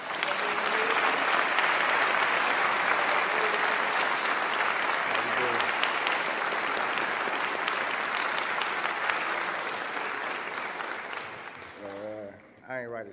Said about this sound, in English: Give a round of applause for Nicholas.